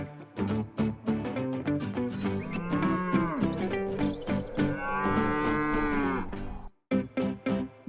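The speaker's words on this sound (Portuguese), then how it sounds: "V de vaca." A cow moos several times in long, loud, drawn-out calls, close by and with no voices, then breaks off near the end.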